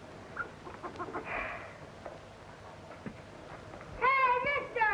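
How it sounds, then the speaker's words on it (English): A hen clucks in the background of an old 1935 crime drama, with a few soft clucks followed by a louder, squawking burst of clucking near the end, under faint room sound. "No, that's our chicken."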